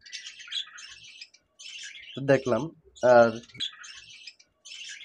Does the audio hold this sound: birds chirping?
yes